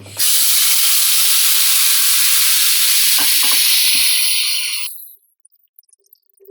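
Tomato, ginger and garlic paste hits hot oil in a pan with a loud, continuous hissing sizzle that holds steady for about five seconds, then cuts off abruptly, leaving near silence.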